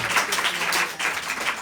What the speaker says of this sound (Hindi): बजाओ, जो जो गोपियां ताली बजाओ राधा जी के लिए।